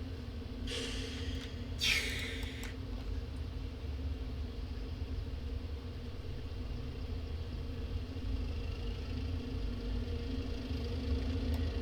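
In Train Simulator, a low, steady engine rumble runs throughout, with two short hissing bursts of steam early on, as a steam locomotive releases its brakes and pulls away out of a shed.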